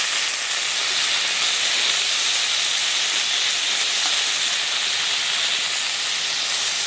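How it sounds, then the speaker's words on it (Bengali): Cut bitter gourd and potato go into a pan of fried onion and hiss with a loud, even sizzle that stays close and steady throughout. "পেঁয়াজটাকে বেশ সুন্দর করে ভেজে নিয়েছি, এবারে দিয়ে দিচ্ছি কেটে রাখা উচ্ছে আর আলু।"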